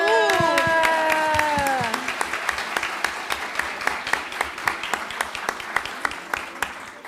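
Applause breaks out at a national law congress, starting under a sustained tonal sound that bends downward and stops, then continuing as steady clapping with distinct nearby claps.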